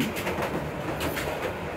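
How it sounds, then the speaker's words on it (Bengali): The Banglabandha Express, a Bangladesh Railway intercity train between Rajshahi and Panchagarh, rumbles past with rhythmic clickety-clack of wheels on rail joints, loud and close, steady throughout with no voices. "বাংলাবান্ধা এক্সপ্রেস বাংলাদেশ রেলওয়ে কর্তৃক পরিচালিত বাংলাদেশের একটি আন্তঃনগর ট্রেন।"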